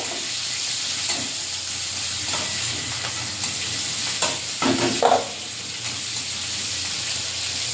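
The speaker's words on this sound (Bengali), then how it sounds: "পেঁয়াজটা ভাজা ভাজা করে নেব।" Onions sizzle and fry in a wok with occasional stirring scrapes, a soft continuous hiss with a few louder clatters, no talking.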